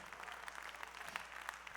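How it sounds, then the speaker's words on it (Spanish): A church congregation claps during a sermon, faint and distant, a brief steady patter of many hands. "Denle más fuerte ese aplauso al Señor si puede"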